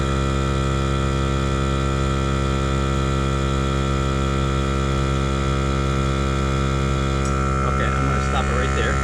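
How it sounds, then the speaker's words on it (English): A Viair 400P RV portable air compressor runs steadily while pumping up a tank, giving a loud, constant electric motor hum with strong tonal drone throughout, joined near the end by faint clicks and rattles. "It's pumping up pretty good."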